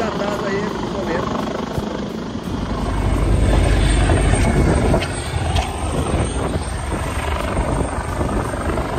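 A rescue helicopter's rotor thrum fills the scene near Izu, loud and continuous, swelling as it passes nearby, with voices underneath.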